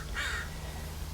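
Crows cawing in the background outdoors beside a parked vehicle at a roadside stop, with one clear caw near the start against steady low engine-like rumble.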